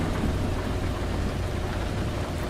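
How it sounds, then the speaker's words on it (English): Steady, loud rain pours in a realistic truck driving video game, a dense unbroken hiss with low rumbles of thunder rolling underneath throughout, with no voices. "Rain will not want to go away."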